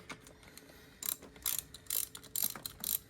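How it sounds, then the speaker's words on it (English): A ratchet is cranked on bolts securing the PCV valve body of a 2012 VW GTI, giving quick bursts of clicking strokes in an uneven rhythm, close and fairly quiet, with no talk. "bolting the PCV valve body on"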